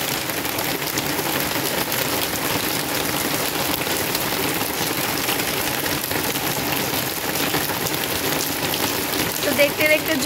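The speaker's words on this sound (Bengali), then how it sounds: "দেখতে দেখতে জোরে বৃষ্টি শুরু হয়ে গেল" Heavy rain pours down steadily outdoors, a dense, unbroken wash of drops striking surfaces nearby, loud and even from start to finish with no talk.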